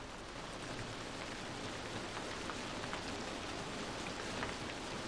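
Heavy rain pours steadily and densely throughout, a constant close hiss of drops on surfaces with no voices.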